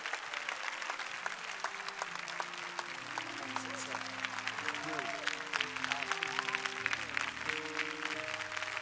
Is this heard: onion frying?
no